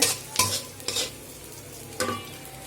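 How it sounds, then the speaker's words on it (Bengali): Fish frying in a pan with onion, chili and garlic, a steady hiss of oil broken by three or four sharp scraping stirs of a spatula, close and clear, with no talking. "মাছটাও ভাবছি পেঁয়াজ মরিচ রসুনও ভাজছি"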